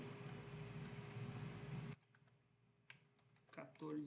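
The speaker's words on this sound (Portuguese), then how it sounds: "Eu vou digitar aqui 192, 168," An IP address being typed on a computer keyboard while setting up an Altus PLC data logger: a few sparse, close keystroke clicks follow a brief stretch of steady background noise.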